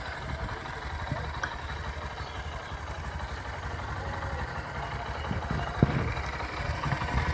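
A Honda SP 125 Fi motorcycle's 125cc fuel-injected engine idles steadily with a low, even hum and faint mechanical patter, heard from a moderate distance without any voices.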